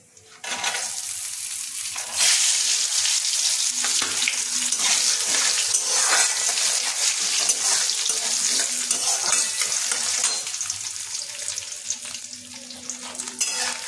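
Chopped coconut fries in a pan over a low gas flame with cumin and dried red chilli, giving a dense, continuous close sizzle with occasional bursts of crackle and no voices.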